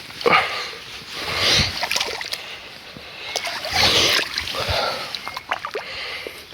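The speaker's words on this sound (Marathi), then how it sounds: "पाणी चाललं आता ह्या पट्टीनं." Irrigation water runs and splashes steadily along a channel in a farm field, a close, continuous wash with small splatters throughout.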